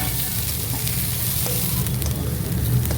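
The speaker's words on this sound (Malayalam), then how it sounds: "ഇനി ഇതെല്ലാം, ഈ ഉള്ളിയെല്ലാം കൂടെ നന്നായിട്ട് ഒന്ന് വഴറ്റുക." Chopped onions with ginger and garlic sauté in a hot pan for spinach chicken, a loud, steady sizzle and crackle with a soft scrape of stirring close by and no voices.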